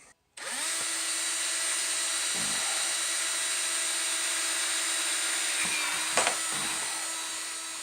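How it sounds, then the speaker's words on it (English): A power drill spins up and bores a hole through a plastic gold-panning classifier, a loud steady whine held for several seconds with brief dips as the bit bites into the plastic. "I just got to drill this hole"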